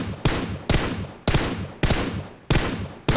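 Gunfire in the PUBG Mobile video game: five loud, close bursts of automatic fire, each cutting in sharply and tailing off, spaced roughly every half second to second with no talking.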